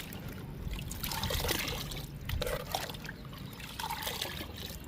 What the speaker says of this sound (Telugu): లిక్విడ్ అంతా కలుపుతున్నాను.